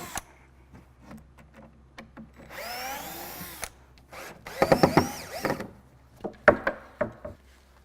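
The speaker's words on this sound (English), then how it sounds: "I'm going to grab your drill and take off, on any unit, the cleats for protection that we have" Power drill driving out protective cleats from an Evoque frame display unit: short bursts of whining motor with pitch rising and falling, separated by clicks, knocks and handling noises.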